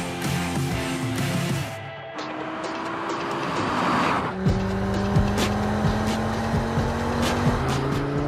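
An Audi TT-RS Iconic Edition drives hard with a loud, sustained engine note that climbs through the gears, punctuated by tire squeal and rapid shifts, close and steady throughout.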